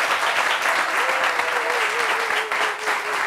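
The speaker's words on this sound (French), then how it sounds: "Applaudissements pour Ange Freddy" An audience at a discussion gathering gives a guest a sustained round of loud, dense applause, with a held vocal tone rising briefly above the clapping partway through.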